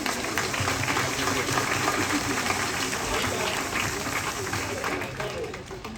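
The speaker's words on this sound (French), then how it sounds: "On peut s'applaudir." A church congregation applauding at the end of Mass, sustained dense clapping from a large crowd throughout, loud and steady before easing slightly at the close.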